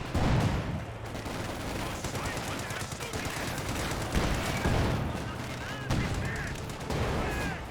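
Gunfire in Company of Heroes 2: a sustained stream of rapid shots as Panzergrenadiers fire on suppressed commandos, with battle noise continuing throughout and a voice talking over it.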